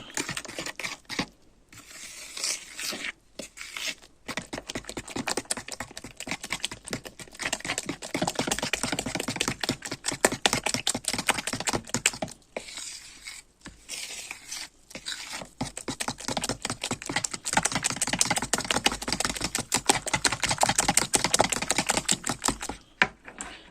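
Quick, steady clicking strokes of a fork whisking batter in a bowl, continuing in long runs with brief pauses, close and fairly loud.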